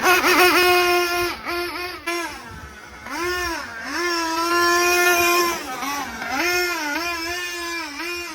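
The high-pitched nitro engine of a Hobao Hyper VT RC car screams continuously close by, its pitch sweeping up and down in repeated revs and throttle blips.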